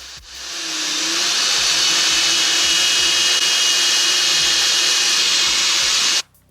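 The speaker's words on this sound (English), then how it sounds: "two drills at the same time," Two power drills run together on household power from a solar generator, a loud steady high-pitched whir with a faint wavering undertone that holds for about six seconds, then cuts off abruptly.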